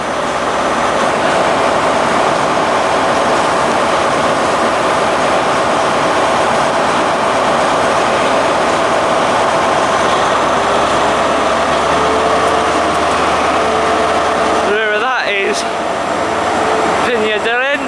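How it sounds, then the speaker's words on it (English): A Class 43 HST train passes through Reading station bound for London Paddington, producing a loud, sustained roar of engines and rolling wheels close by, with a brief squealing whine near the end. "There goes 43158 with the service bound for London Paddington."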